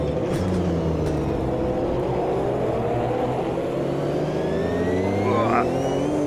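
A Porsche 935/78 turbo race car accelerates in the Automobilista 2 racing game. The loud engine note climbs steadily through the revs without a break, and a voice talks over it.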